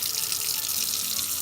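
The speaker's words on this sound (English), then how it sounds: "I have my sink, and you're just going to want to plug it up and then start adding your water." Tap water runs steadily into a plugged kitchen sink, a continuous close hiss and splash with no voices.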